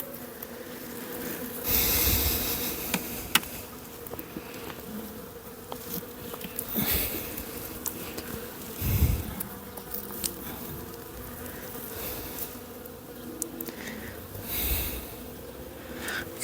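Honeybees in an open hive during a January inspection give a continuous close buzz, swelling and fading as the frames are handled, with occasional soft knocks and breathy noises and no talk.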